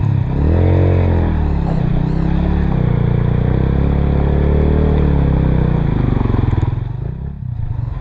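A motorcycle climbs a winding Cordillera mountain road, its engine loud and close, revving and easing off in uneven surges with a rattling clatter before the sound drops away at the end.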